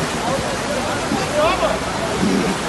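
Floodwater rushes under a bridge during heavy rain in northeast Brazil, a loud, continuous broadband roar with excited voices faintly mixed in.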